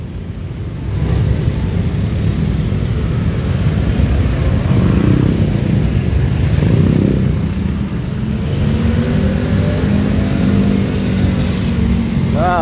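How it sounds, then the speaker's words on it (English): Busy street traffic near Platinum Market in Bangkok, Thailand, with motorbike engines droning and revving nearby, a steady rumble of vehicles passing close by for several seconds. "We got all kind of motorbike"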